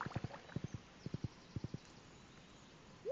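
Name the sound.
horse galloping in the video game Stardew Valley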